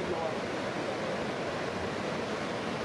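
Murchison Falls waterfall on the river in Uganda's Rift Valley, a steady, dense roar of cascading water that stays constant and loud throughout with no pauses or distinct events.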